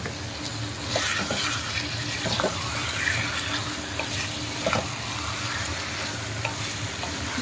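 Chicken pieces frying in a pan for a chicken curry, a steady hiss of sizzling oil with occasional stirring clinks and scrapes, close and continuous with no voices.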